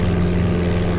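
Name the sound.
Cessna propeller engine sound from video game Flight Simulator 95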